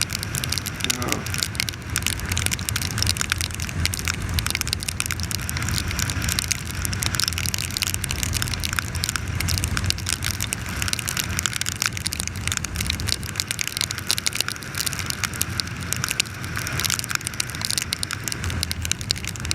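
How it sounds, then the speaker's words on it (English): Continuous rain patters on a hard surface nearby, a dense crackling hiss throughout, with faint voices blended underneath. "It's raining, yep."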